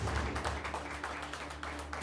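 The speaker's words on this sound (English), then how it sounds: "I'll ask you all to give them a rousing round of applause" A round of applause for the chefs at the grand finale of a cooking competition show: moderate, fairly steady clapping from a small audience with individual claps audible, no voices over it.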